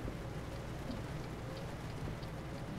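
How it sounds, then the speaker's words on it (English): Steady rainfall in Euro Truck Simulator 2, a continuous even patter of drops on the truck that holds at one level with no break and no talk over it. "as soon as the rain comes, the slow pokes come out."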